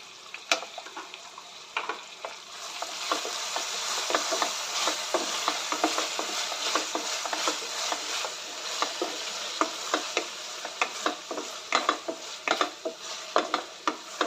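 Ginger garlic paste sizzles with onions in a pan for a prawn curry, a steady frying hiss broken by frequent scraping stir strokes of a utensil, close and fairly loud with no talking.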